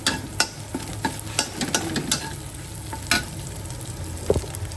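Garlic and boiled ground meat sautéing in a pan, a busy sizzle punctuated by frequent sharp stirring scrapes and taps in an irregular rhythm, close up.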